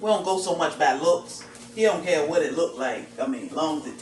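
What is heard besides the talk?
None of the usual background noises is heard.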